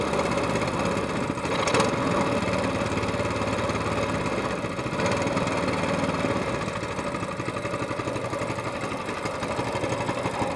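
A small engine on an SPS LongTail mud motor idles steadily right after starting, a continuous close, loud chugging hum that holds level throughout with no talking.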